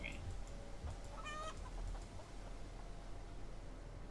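Game chickens in Hollow Cocoon give a few soft clucks and a brief squawk in the first two seconds, faint over a steady low hiss that carries on alone afterward.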